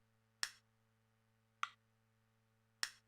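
Cubase metronome at half tempo: three sharp, widely spaced clicks, slow and evenly timed, faint and alone over a quiet background hum.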